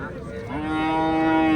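A single Limousin cow moos close by at a livestock market, a long, steady low call that swells and holds to the end.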